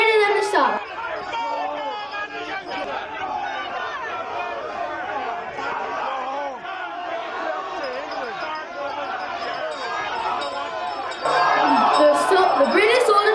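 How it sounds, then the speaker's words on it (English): A mob of some 400 colonists being pushed back by British soldiers raises a dense, continuous babble of excited shouting voices, with a louder surge of yelling near the end. "The British soldiers are pushing the crowd back. The mob has grown to 400 colonists."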